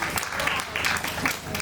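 An outdoor crowd at a summer holiday festival applauds as local officials are introduced, a short, fairly loud burst of clapping in uneven pulses, with voices mixed in.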